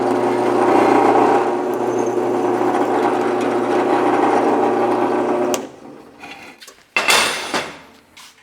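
A drill bores a 15/16 inch hole in metal, whining loudly and steadily for several seconds before cutting off, followed by a few clanks and a short burst of clatter.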